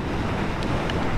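Constant wind buffeting the microphone during a motorcycle ride, a loud steady roar with no break and no speech.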